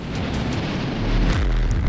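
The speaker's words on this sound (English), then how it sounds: "This triggers an explosion to happen behind you." An explosion goes off behind the player in a tunnel in the video game Eggwife, a loud, heavy, rumbling boom that swells and sustains with deep low-end roar and no voices over it.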